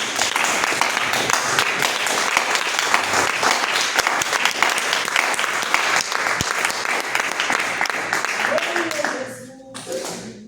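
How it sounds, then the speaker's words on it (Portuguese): A church congregation claps together in sustained, dense applause at a Pentecostal prayer-house service, steady and loud before tapering off near the end, with voices mixed in. "Vamos dar salve de palmas ao Senhor."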